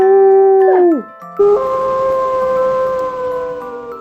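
A voice imitates howling wind with a long sustained wavering "oooo" tone, a falling glide, then a steady drawn-out howl, loud and close.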